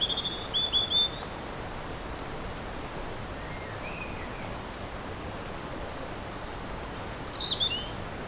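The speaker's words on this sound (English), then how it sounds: "particularly this one, had a kind of a slightly mournful kind of tone to it" Faint, distant Eurasian blackbird song with a few slightly mournful whistled phrases, over a steady outdoor hiss; brief bursts near the start and again toward the end.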